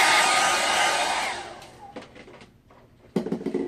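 A handheld hair dryer blasts loose clippings off a client's head after a fade haircut, a loud steady roar that fades away after about a second and a half, followed by quiet clicks and brief rustling.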